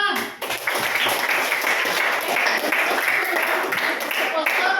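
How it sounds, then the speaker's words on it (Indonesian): A class of students in a practice-teaching session claps hands together, a dense, continuous patter of many hands that runs over several seconds, close and fairly loud, with voices mixed in. "tepuk tangan"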